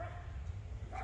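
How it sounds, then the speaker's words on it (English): Dogs bark in a garden, two brief, faint yips far off at the start and end over low background rumble. "Sorry about the dogs barking."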